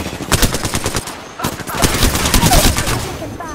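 Gunfire in the Apex Legends video game: rapid, loud automatic bursts of shots in quick rhythmic succession, with a short pause near the middle before the firing resumes and continues to the end.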